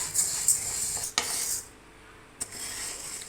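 Moong dal being dry roasted and stirred in a pan for instant ven pongal premix, giving a soft continuous scraping hiss with a few sharp clinks of the spoon against the pan, close by.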